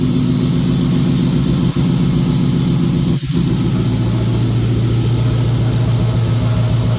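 A turbocharged Ford F-150 with a 5.4-liter 2-valve V8 idles loudly and steadily up close, a continuous deep rumble with one brief dip, no voices.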